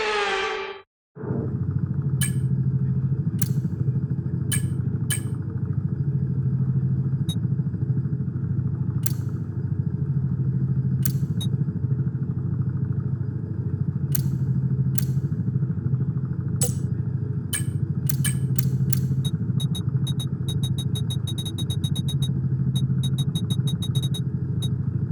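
F1 24 race cars roll through the formation lap, a steady close engine drone that holds after a short sharp start, overlaid with scattered clicks and brief high ticks.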